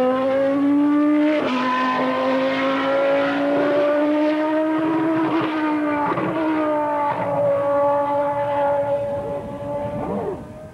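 A 1991 Williams Formula One car driving cautiously on a wet track, its high-pitched engine whine rising and falling through gear changes and revs, with tire spray and hiss, fading slightly at the end.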